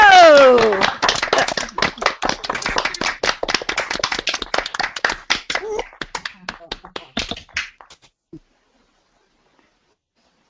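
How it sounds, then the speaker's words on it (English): Participants on an online call clap over their microphones, a burst of scattered, uneven claps and taps that thins out and stops after about eight seconds, leaving silence. "give him a huge clap"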